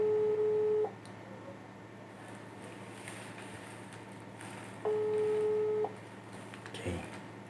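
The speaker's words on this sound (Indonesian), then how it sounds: "Kita langsung telepon Ibu Dokter Dini Rahma." A telephone call rings out on the line, two long electronic ring tones separated by a few seconds of quiet, heard clearly and close, with faint background noise between them.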